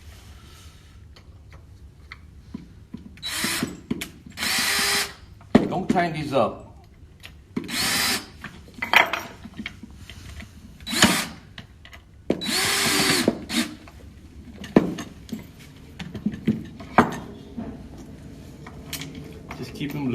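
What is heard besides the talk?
power drill tightening screws on dining chair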